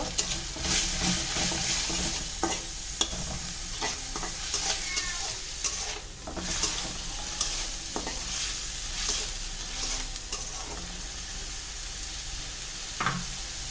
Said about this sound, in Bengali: এর পর্যায়ে দিয়ে দিব রসুন বাটা, আদা বাটা, ভালো করে নেড়ে ছেড়ে নেব